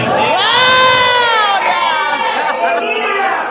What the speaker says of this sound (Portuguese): Um grito de glória a Deus.